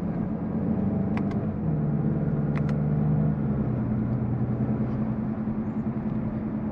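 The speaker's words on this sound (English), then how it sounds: "I like that little burble on the upshift" A 2023 Volkswagen Golf GTI with a dual-clutch gearbox drones steadily from inside at speed on the Autobahn, its engine note dropping in pitch at each upshift with brief crackling exhaust burbles.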